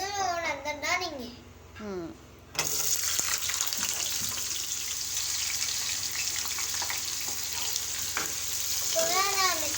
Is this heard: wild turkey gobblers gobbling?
no